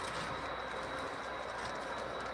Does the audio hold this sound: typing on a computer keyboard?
no